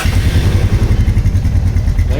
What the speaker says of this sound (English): Now I am starting the engine.